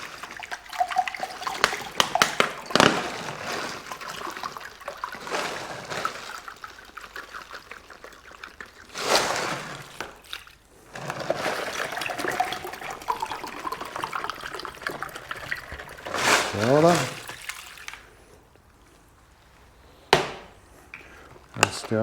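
Ice water splashes and trickles in bursts into ground sausage meat in a bowl, with wet churning and squelching sounds between pours, close up.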